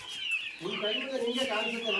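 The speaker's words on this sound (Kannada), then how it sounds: "ಕೋಳಿಗಳು ಸದಾ ಬಂದು ಅವೇ ಈ ಪೀಸ್ಗಳನ್ನು ಐಕ ತಿಂತಾ ಇದ್ದಾವೆ" Chickens cluck while pecking at pieces of chopped banana stem, the soft clucking mixed under and around a person talking nearby.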